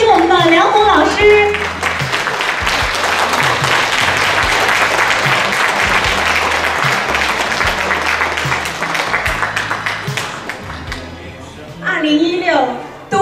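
An audience at a 2016 dance school recital claps to welcome the school's founder, teacher Liang Hong, onstage. The sustained, loud applause runs over a thumping music bed, with an amplified voice speaking briefly at the start and again near the end.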